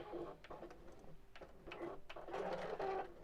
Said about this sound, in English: seams in opposite directions, and sew straight across